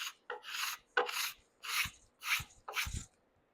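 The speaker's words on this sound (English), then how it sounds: "And I'm going to come right down through here with a scraper." A hand scraper drawn along a carved wooden guitar neck in six close, dry rasping strokes with short pauses between, heard alone.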